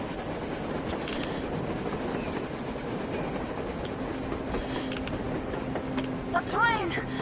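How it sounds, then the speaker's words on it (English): A train running on the surface in the game Metro gives a steady rumbling clatter of rolling wagons, with faint shouting voices breaking through near the end. "A train! A damn train on the surface!"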